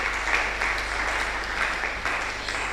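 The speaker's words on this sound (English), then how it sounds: "a round of applause for Professor Olawe" An audience at a healthcare conference claps for a professor, producing a continuous dense patter of applause over a constant low room rumble, fairly loud and unbroken throughout.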